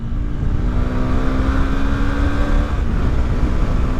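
A Honda CBR 250R motorcycle on a high-speed highway run gives a loud, continuous engine drone with a rising pitch as it accelerates, with heavy wind rumble and no talking.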